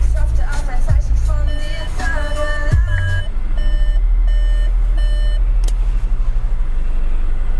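A 2023 Skoda Fabia hatchback with a 1.0 MPI 59 kW petrol engine turns over and catches, joined by a series of steady dashboard warning beeps and a low idle hum close by.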